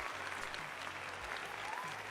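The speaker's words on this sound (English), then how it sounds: "I can just do the applause" Applause sound effect of a crowd clapping, a steady dense wash of many hands at moderate loudness for a couple of seconds, with no talking.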